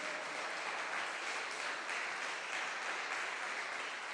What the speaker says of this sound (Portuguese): eu glorificava Jesus com uma linda salva de palmas